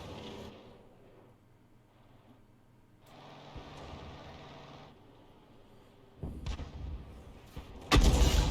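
The leFH18B2 artillery gun in a video game fires a round, a sudden loud blast near the end after stretches of low engine rumble and quieter game noise, with no speech.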